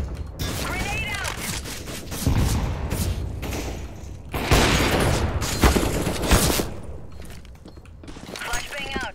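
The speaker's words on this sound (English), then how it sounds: "Grenade out!" Grenade explosion and gunfire in a Counter-Strike 10-man match on the Overpass map, with loud bursts and booms around two and a half, four and a half and six seconds over continuous game noise and talk.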